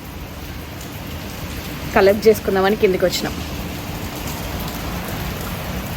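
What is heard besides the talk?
rain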